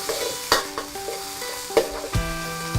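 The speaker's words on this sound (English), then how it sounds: "Whenever you add onions, ginger as a base, you really have to cook it down, roughly 5 to 8 minutes." Shallots, yellow onions, spring onions and ginger fry in a pan with a loud close sizzle, broken by several sharp stirring scrapes and knocks.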